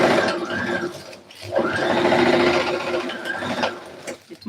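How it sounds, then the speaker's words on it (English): A sewing machine stitching delicate outfit fabric, running in two long whirring bursts with a short pause between, close and fairly loud, then a few light clicks at the end. "So I'm sewing this side as well."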